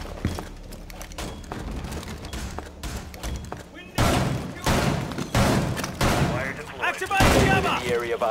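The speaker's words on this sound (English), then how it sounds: "Why are we shooting at this trapdoor?" Gunfire aimed at a trapdoor in the video game Rainbow Six Siege, loud bursts of shots and heavy thuds in quick volleys, close and punchy, with players talking over the action.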